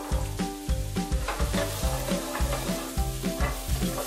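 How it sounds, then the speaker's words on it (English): Butternut squash sautéing in a pan, a loud bright sizzle broken by regular stirring strokes and scrapes in a steady rhythm, close up with no talking. "we're going to start by sauteing the butternut squash"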